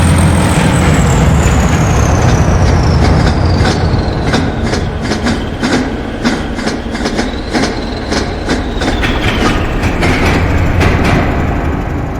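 A train in a railway simulator game, unit 31105, runs through platform 2 of a station on a green signal, its loud steady rumble carrying a rapid run of wheel clicks over rail joints throughout.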